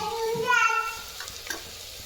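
Homemade black masala spice mix hits a hot pan with oil and sets off a short burst of sizzling, swelling for a moment and then settling into a lower fry with a few soft clinks from a stirring spoon.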